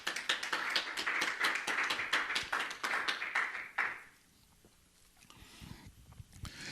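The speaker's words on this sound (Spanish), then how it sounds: "Ahora sí, dele un aplauso al Señor." A church congregation claps for the Lord in a sharp, rhythmic unison beat for about four seconds, then the clapping stops abruptly and a quiet room follows with faint movement.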